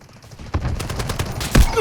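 Machine gun fire in the mobile shooter Delta Force Mobile, a short run of sharp bursts and rapid shots, close and loud, with one heavier blast near the end.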